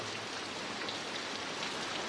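Heavy rain pours steadily, a dense continuous hiss of drops drumming on surfaces with no voices over it.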